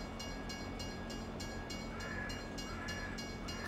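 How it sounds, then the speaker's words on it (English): A train in the video game Farming Simulator 22 gives a faint, steady rolling rumble with evenly spaced wheel clacks, heard distantly and alone throughout. "Oh, there's a train."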